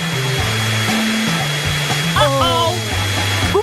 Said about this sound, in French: Mon sèche-cheveux super puissant va tout réparer.